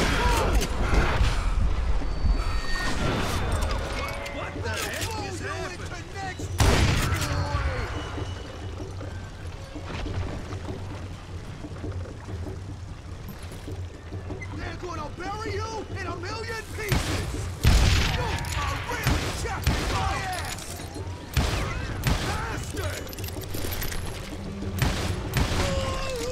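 Gunshots ring out in a Call of Juarez Gunslinger shootout, several sharp booming reports scattered through a busy game soundscape with voices and music running underneath.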